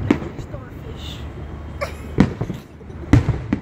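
Fireworks on the night of July 3 pop in a few sharp scattered bursts at a distance, over a steady outdoor hum with people talking nearby.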